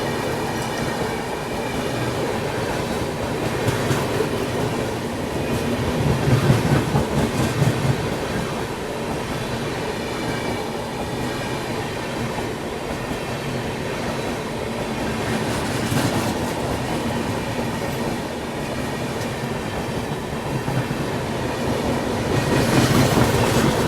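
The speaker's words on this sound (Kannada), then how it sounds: "ಹಜರತ್ ನಿಜಾಮುದ್ದೀನ್ ತಿರುವನಂತಪುರಂ ರಾಜಧಾನಿ ಎಕ್ಸ್ಪ್ರೆಸ್" Hazrat Nizamuddin–Thiruvananthapuram Rajdhani Express running, with steady loud rumble and rhythmic clickety-clack of wheels under an AC first class coach, continuous throughout with occasional swells.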